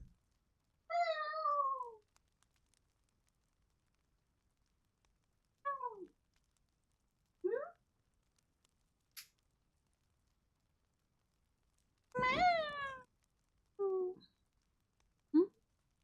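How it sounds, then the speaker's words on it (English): A pet cat meows several times alone in a quiet room: a long drawn-out call near the start, a few shorter mews in the middle, then a louder cluster of meows toward the end. "I have to pay some attention to the cat."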